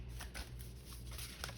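Oracle cards being shuffled, a steady soft papery riffle and shuffle running quietly and continuously at close range with faint low hum underneath.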